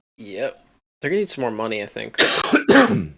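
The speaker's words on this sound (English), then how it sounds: "that's me coughing up a lung." A person coughs harshly a few times, loud and close, between bits of speech during a bingo match.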